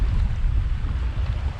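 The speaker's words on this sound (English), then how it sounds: "The wind, oh my God, blowing like crazy." Strong wind roars steadily across a kayak on Mosquito Lagoon ahead of a cold front, a loud, constant low rumble of gusts buffeting the microphone with no voices.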